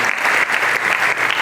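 Crowd at a Hindi comedy poetry recital clapping loudly and energetically, a dense continuous burst of applause with slight pulsing swells.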